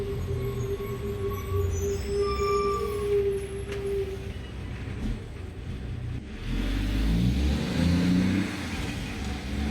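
A truck passes on a road outside, a broad low rumble with a whining tone that swells and fades, then another heavier vehicle rumble builds near the end.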